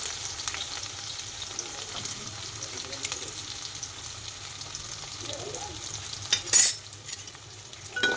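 Onions and green chillies fry in hot oil over tempering spices, giving a continuous close sizzle with stirring scrapes and a sharp metallic clink near the end.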